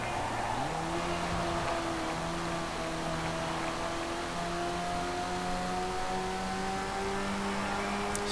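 Modded car engine in the Forza Horizon 4 racing game, a steady loud drone that climbs gradually in pitch as it revs through the gears, running continuously without talk.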